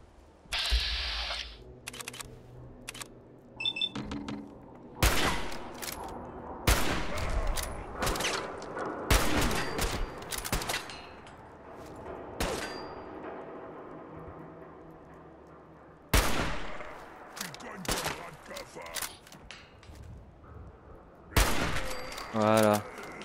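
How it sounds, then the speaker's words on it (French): Gunfire in the game Fallout 4, sharp bursts of shots and rapid volleys separated by quieter stretches, loud and close, with someone talking between them. "Ah, j'ai réussi à tirer entre ses jambes."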